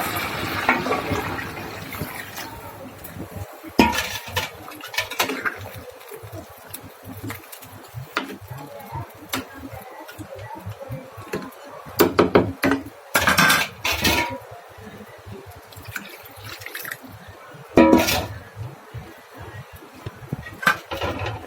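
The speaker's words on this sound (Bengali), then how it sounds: "এই যে পানি দিয়ে দিলাম" Water is poured into a metal cooking pot of rice on a stove, with splashing bursts and clinks of pots and utensils spread irregularly across the clip, the loudest clatters coming in short clusters.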